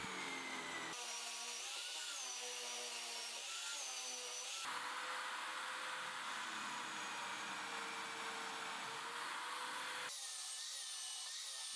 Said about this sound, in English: I stop a few millimeters short of drilling through to avoid damaging the bottom of the benchtop.